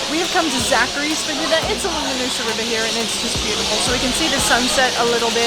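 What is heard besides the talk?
huge flock of rainbow lorikeets nesting for the evening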